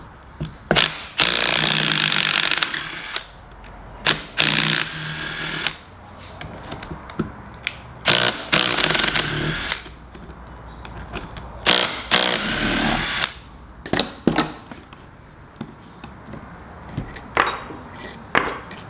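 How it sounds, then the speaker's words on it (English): Power tool loosening the four 14mm bolts that split a Land Cruiser 80 front brake caliper casting, heard as repeated loud, close bursts of a few seconds each, separated by short pauses and small clicks. "To split the casting in half, we're going to have to undo these four 14mm bolts."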